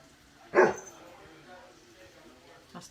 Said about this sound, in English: My dog wants to go outside.